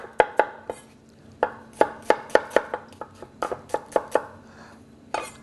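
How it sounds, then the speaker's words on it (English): A kitchen knife finely slices fresh shallots on a board for a chilled tomato soup, giving sharp, close chopping taps in quick uneven bursts with brief pauses between runs. "I'm going to slice some shallots very, very fine, like so."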